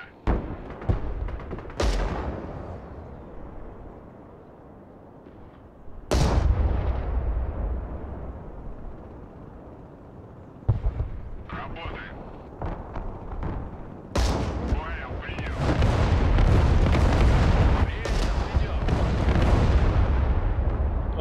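Artillery fires in the Broken Arrow battle game on the Parnu map, a few deep, powerful booms with long rumbling tails, spaced several seconds apart, growing into a dense, sustained barrage toward the end.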